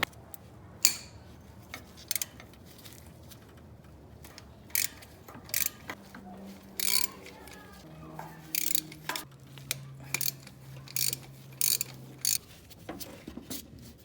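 Exhaust manifold bolts are loosened on a 1999 Honda CR-V with a ratchet, close repeated clicking bursts and metallic clinks in irregular bouts, with brief squeaky turning between them and quiet gaps.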